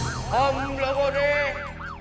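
A wailing police siren rises and falls in repeated sweeps, loud and close, with a steady tone beneath, during a police raid on a bungalow where gambling is going on.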